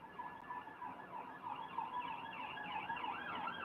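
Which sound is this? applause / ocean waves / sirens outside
sirens outside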